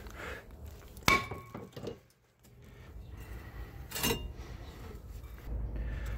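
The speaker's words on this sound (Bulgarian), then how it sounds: "е запекал и трябва да му помогнем малко с чука" Two sharp metallic hammer strikes on a seized brake disc of an old Volvo ring out a few seconds apart, each with a brief clang, amid quiet workshop noise.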